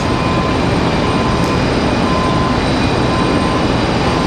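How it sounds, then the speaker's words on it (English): A WestJet airliner departs Raleigh-Durham International Airport with a steady, loud broadband roar of jet engines that holds evenly throughout, with no voices. "WestJet departing at 7:47"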